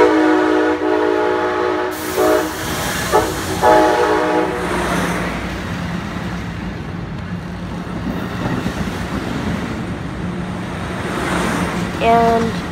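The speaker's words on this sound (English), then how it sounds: "it was a super loud horn show that I could hear from my soul" Passing locomotives at Fullerton blast a loud horn show, several sustained chords sounding close and forceful, followed by the rumble and rolling roar of the train going by, with a final horn burst near the end.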